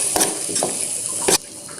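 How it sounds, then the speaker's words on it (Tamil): Chopped capsicum and paneer sauté in a pan with chilli powder and garam masala, a close sizzling hiss punctuated by a few sharp stirring scrapes. "ஆட் பண்ணி நல்லா வதக்கிடுங்க."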